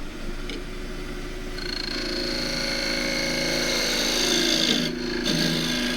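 A small gouge finishes the bottom of a cross-grain wood turning on a running lathe, giving a steady close scraping and rasping hum with a higher whine that rises midway and briefly drops out near the end.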